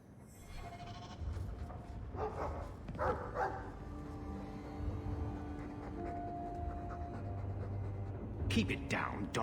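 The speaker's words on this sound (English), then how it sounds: "All that noisy dog breath, day in, day out, make him stop." A dog pants in Dragon Age 2 with quick, breathy rhythmic huffs running throughout, and game voices and bleating sounds layered over it.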